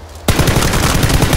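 Rapid automatic gunfire in the battle royale video game PlayerUnknown's Battlegrounds, a loud close burst of quick repeated shots starting abruptly after a brief quiet moment.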